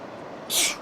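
A single sharp sneeze bursts out close by, brief and loud, over a quiet background hum.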